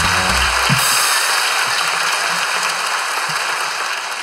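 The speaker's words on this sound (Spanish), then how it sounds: "¡Un fuerte aplauso!" Studio audience applause on a live comedy talk show, a dense wash of clapping that starts loud and full, then thins and fades slightly over a few seconds, with no talking over it.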